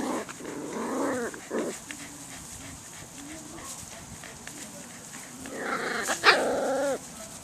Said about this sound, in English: You got to see some puppies.